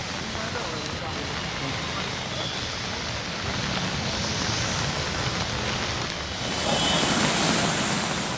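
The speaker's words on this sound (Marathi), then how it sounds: "मुंबईला समुद्राला मोठी भरती आल्याचं पाहायला मिळतं" Sea waves surge at high tide along the Mumbai shore, a dense, continuous roar that swells louder toward the end and carries steadily without pause.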